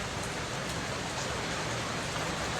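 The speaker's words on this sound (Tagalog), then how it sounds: "Lakas ng ulan, tignan mo." Heavy rain pours onto a street in Binondo, a dense, steady hiss of falling water with no break, fairly loud and close, and no voices over it.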